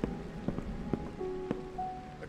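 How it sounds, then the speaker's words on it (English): Rain falling outside in the horror game Evil Inside, a faint steady patter with a few soft drips and taps, set against quiet tonal ambience. "It's raining outside."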